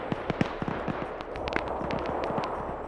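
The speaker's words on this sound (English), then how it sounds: "Why do I hear gunshots over here?" Rapid gunfire in an Arma military simulation, a string of sharp distant pops and short bursts over a low ambient bed, fairly faint and irregular in rhythm.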